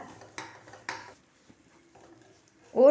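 Batter is stirred with a little salt in a bowl, making a few quick spoon clinks and scrapes against the bowl followed by a quiet pause, close and brief.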